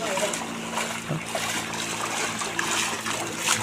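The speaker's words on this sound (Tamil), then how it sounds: "ரோட்டுக்கு மேலோடி தண்ணி போயிட்டுருக்கு" Floodwater runs over a road in Tenkasi, a continuous rushing and splashing flow with trickling texture, heard beneath nearby talking voices and a faint hum.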